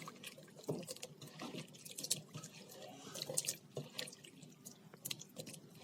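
Water running from a tap and splashing in a sink as thinly sliced raw potatoes are rinsed by hand, with irregular sloshing, drips and soft knocks, close by and moderately loud, with no talk.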